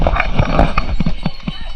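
Hooves of two horses clop in an uneven walking rhythm on hard ground, close by, over a busy background murmur on the Kedarnath trek.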